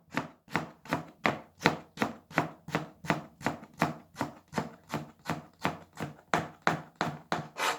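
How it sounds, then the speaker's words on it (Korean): Vegetables julienned with a knife on a cutting board in a basic Korean cooking class, a steady even series of about twenty crisp chops in regular rhythm, close and clear with no talking. "이렇게 곱게 채 썰어서 됐죠."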